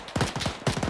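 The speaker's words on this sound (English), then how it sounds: "Is this still our mortar firing?" Mortar fire in the military shooter ArmA 3, sounding as two quick clusters of sharp, close reports, each a burst of three or four thuds in rapid succession, loud and with no one talking.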